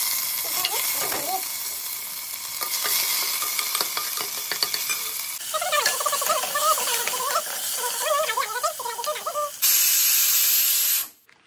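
A kitchen pressure cooker with mixed dal and oil, heard first as stirring and sizzling under a talking voice, then a loud, steady rush of escaping steam near the end that cuts off abruptly.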